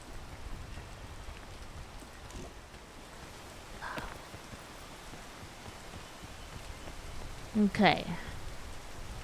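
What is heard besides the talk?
rain falling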